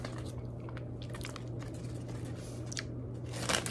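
Crunching and chewing of cheese and crackers, eaten close to the mic at a steady mukbang pace, with a constant low hum underneath and a few sharper crunchy bursts near the end.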